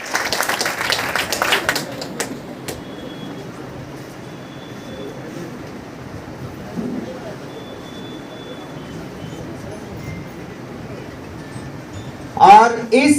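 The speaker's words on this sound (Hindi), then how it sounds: "ताली बजनी चाहिए" Audience clapping at a freshers party, a burst of applause at the start fading into room murmur, then a brief renewed burst near the end, with a voice speaking over the hall.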